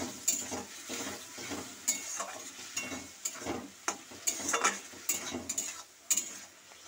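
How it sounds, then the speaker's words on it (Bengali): Potatoes stirred in a pan with a little water give a soft background sizzle broken by repeated rhythmic scrapes and knocks of a spoon, close and unaccompanied by talk. "এই যে এখানে আমি এবার অল্প একটু জল দিয়ে ভালো করে নাড়িয়ে নেব আলুগুলোকে"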